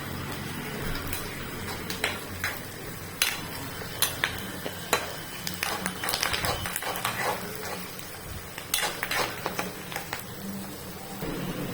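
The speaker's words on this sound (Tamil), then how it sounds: "கறிவேப்பிலை போடும்போது பார்த்து போடணும், ஏன்னா இதுக்கு பொரிக்கும்." Curry leaves spluttering among onions frying in a pan, a steady low sizzle broken by sharp crackling pops and occasional spoon clinks against the pan, close by and without talk.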